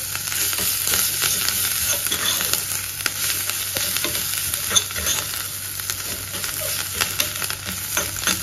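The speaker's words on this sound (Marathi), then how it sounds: "मिरचीचा खरडा, लसूण सोनेरी कलरवर भाजून घ्या" Green chilli paste and garlic fry steadily in a pan as they are roasted golden for a smoky aubergine bharit, giving a continuous close sizzle broken by frequent scraping stirs of a spoon, with no talking.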